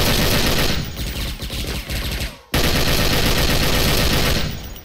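A Soviet-era Degtyarev machine gun fired in a video game: loud, dense sustained bursts of rapid automatic fire, broken by a brief pause before another long burst.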